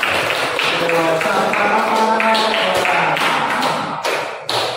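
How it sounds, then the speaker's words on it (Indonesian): Students in a school classroom break into applause, dense clapping and tapping that swells and then thins out toward the end, with a few voices mixed in. "Kasih tepuk tangan."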